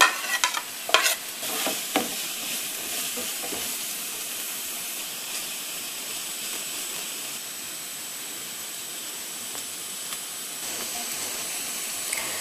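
Shredded cabbage and capsicum are stir-fried for noodles, a close, continuous hissing sizzle with a few sharp scraping clinks early on, then a steady sputter under light stirring.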